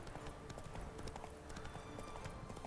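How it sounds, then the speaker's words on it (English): Hoofbeats of the horse Roach galloping in The Witcher 3, a steady rapid clip-clop rhythm of hooves running over ground, continuous and moderately loud with game ambience around it. "I love having a horse in the game because that means you can get everywhere much, much faster"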